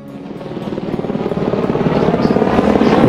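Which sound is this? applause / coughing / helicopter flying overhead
helicopter flying overhead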